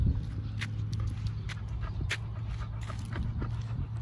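A dog whimpers indoors with faint, intermittent whines over a steady low hum and scattered light taps and clicks.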